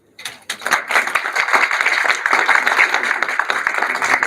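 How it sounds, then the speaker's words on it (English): Applause from an audience at an awareness session on defence innovation challenges starts with a few scattered claps, then builds into a steady, close round of clapping that continues to the end. "We must clap"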